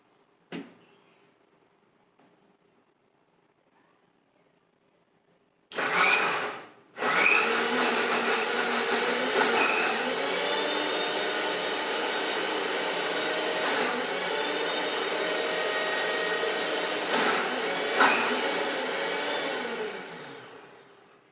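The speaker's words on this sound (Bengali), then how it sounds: "দেখুন আমার পেশা হয়ে গেল মিক্সিতে" An electric mixer grinder blends bael fruit with a little sugar into sherbet. A short burst starts it, then a loud, steady high whirring motor drone runs continuously to the end.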